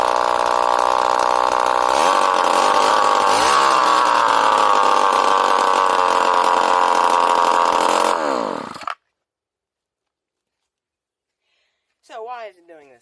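A weed eater engine with its exhaust removed runs loud and raw, revving unevenly for about eight seconds before cutting out to silence, then a voice speaks briefly.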